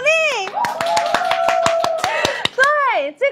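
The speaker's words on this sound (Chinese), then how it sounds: "掌声鼓励。" Hands clap in a quick, even rhythm during a studio sales show promoting herbal tea, the crisp claps close and steady beneath a voice that sings or speaks over them.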